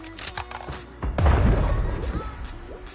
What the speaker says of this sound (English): Well, we can hear gunshots